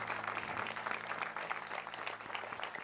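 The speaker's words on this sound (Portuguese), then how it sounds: "Uma salva de palmas a Jesus pela vida dos nossos bispos." Church congregation clapping during a worship service, a steady dense wash of applause over sustained keyboard tones underneath.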